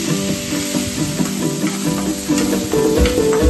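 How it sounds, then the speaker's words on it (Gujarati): Chopped onion goes into hot oil seasoned with asafoetida for palak paneer, giving a loud, steady sizzle with stirring scrapes and a faint tonal hum underneath. "ત્યારબાદ ચોપ્ડ કરેલી ડુંગળી નાખીશું."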